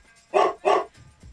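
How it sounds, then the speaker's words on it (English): A dog barking during a sports talk radio segment: two sharp, loud barks in quick succession, close to the mic, followed by softer low rumbling. "the dog barks in that little bit we do there about my dog"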